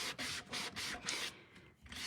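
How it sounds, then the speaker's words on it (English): Rhythmic rubbing with a disposable sanding block on a salvaged wooden piece, about five steady back-and-forth scratchy strokes close up, then a short pause before another stroke. "This is why I don't like these sanding blocks very much."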